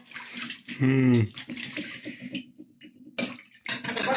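Short bursts of water being poured into a vessel, gurgling and splashing up close, with brief pauses between pours.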